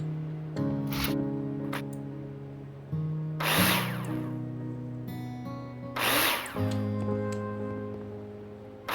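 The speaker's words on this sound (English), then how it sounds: "Take your drill out and screw them in." A power drill in the Builder Simulator video game drives screws into plasterboard in three short whirring bursts spaced a few seconds apart, heard over steady tonal background game music.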